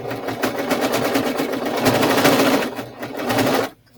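A serger sewing machine runs steadily while stitching along the edge of a blanket, a close, fast rhythmic whirring that stops abruptly at the end.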